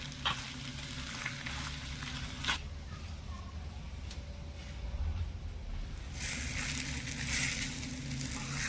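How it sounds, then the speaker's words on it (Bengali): Potato filling for aloo chop is stirred and fried in a pan, giving a faint, steady sizzle with soft scraping stirs throughout. "ভালো করে নেড়ে ছেড়ে মিশিয়ে নেব আর আলুটা এখানে একটু ভাজা ভাজা করে নেব"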